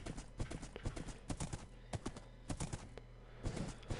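Horse hooves clip-clopping in Minecraft, near and fairly quiet, an irregular run of quick knocking steps continuing throughout.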